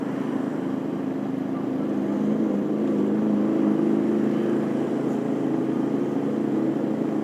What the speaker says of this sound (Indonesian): Knalpotnya cuy, mantap.